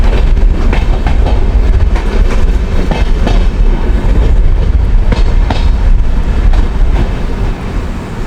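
The Mewar Express runs between Udaipur and Delhi, heard from inside a first AC carriage. A loud, steady rumble of rolling stock carries rhythmic clickety-clack wheel beats throughout.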